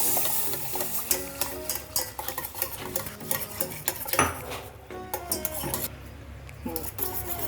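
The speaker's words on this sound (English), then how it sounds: "add a cup of milk and stirring it continuously" A utensil stirs sauce in a pan without pause after milk joins flour roasted light brown, making busy scraping and clinking with a soft sizzle underneath and no talk.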